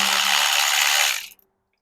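A ratchet loosening a 10mm bolt on an engine mount during thermostat work on a 2.0T FSI, producing a continuous, loud, close rasping that stops abruptly after about a second.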